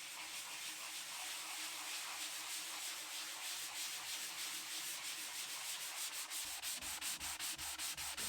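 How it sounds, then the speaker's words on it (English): A power sander runs steadily over filled patches in a wall repair, producing a continuous close, even rasping hiss with faint rhythmic pulsing toward the end and no speech. "for something big, you really need a sander like this"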